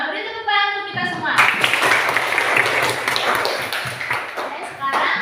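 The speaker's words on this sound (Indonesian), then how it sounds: "Beri tepuk tangan untuk kita semua." Classroom of students breaking into applause, a loud, close burst of clapping with voices mixed in that carries on for several seconds after a short spoken lead-in.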